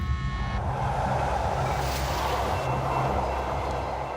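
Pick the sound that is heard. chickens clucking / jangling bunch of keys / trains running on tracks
trains running on tracks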